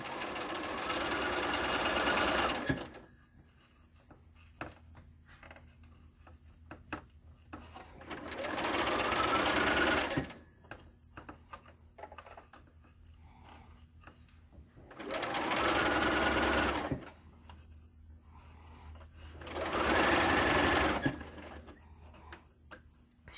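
Sewing machine stitches a fabric face mask along the seam edge and off the end, running in four loud bursts of rapid needle chatter separated by quieter pauses of handling.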